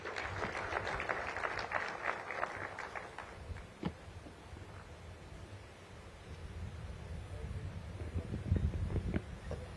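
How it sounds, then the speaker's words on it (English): An audience at a Uganda–South Africa trade and investment summit claps in a dense, fairly distant patter that swells at first, fades through the middle, then returns more loudly near the end. "Ladies and gentlemen, please give him a round of applause."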